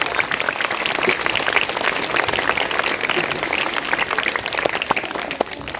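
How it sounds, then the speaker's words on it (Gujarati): A crowd of parents and students at a primary school's Republic Day cultural programme applauds the schoolchildren performers: dense, steady clapping that fills the whole stretch at an even, moderately close level. "એના માટે એક જોરદાર તાળી થવી જોઈએ."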